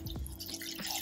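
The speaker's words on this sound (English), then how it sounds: "I take a washcloth and get it soaked up in this nice" A washcloth sloshes and drips in a bowl of cold melted-ice water, giving a few close wet splashes and trickles over a steady low background hum.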